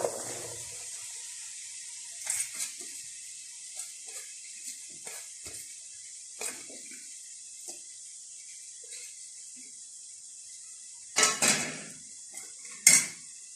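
Vegetables are tossed and stirred with chicken in a pan, a soft, constant high sizzle broken by scattered scrapes and clinks of a utensil on metal, with a few louder clatters near the end.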